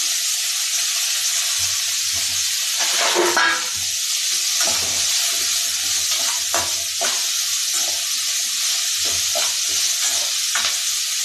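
Raw banana and green chilli sauté in a hot pan, giving a steady loud sizzle with occasional stirring scrapes and clacks, and no talking.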